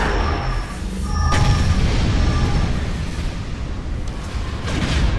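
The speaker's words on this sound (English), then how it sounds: "Fire the ion cannon down there." A heavy, rumbling sci-fi ion cannon blast from a Star Wars strategy game booms and rolls on, sustained low roar with a brief sharp crack partway through.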